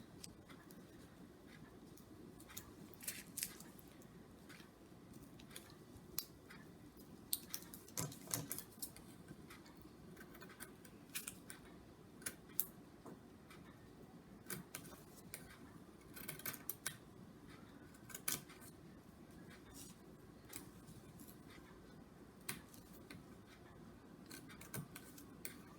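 Scissors snip through fabric around a holiday ornament pattern piece, a soft, intermittent series of quiet cuts and clicks in a hushed room with no talking.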